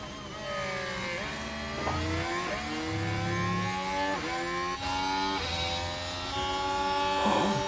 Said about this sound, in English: The different engines have different sounds?